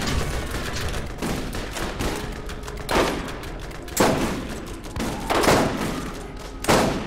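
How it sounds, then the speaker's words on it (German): Rapid bursts of gunfire from the Borderlands video game fill the scene, with louder volleys punching through roughly every second alongside sustained shooting and no talking. "Ich baller dir gerade die Jungs da weg"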